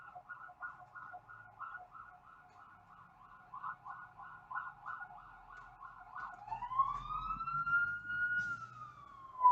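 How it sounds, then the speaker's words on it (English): A siren wails in a rapid repeating yelp, then shifts to a rising and falling tone as it passes at moderate distance, over faint background noise. "As an ambulance just goes by yet again."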